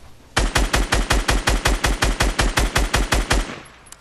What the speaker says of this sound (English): Pull out my SCAR, start shooting